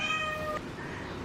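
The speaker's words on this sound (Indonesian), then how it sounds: "perkenalkan dulu ya, nama kucing ini adalah" A pet cat meows once, a clear drawn-out tonal call standing alone against faint room noise.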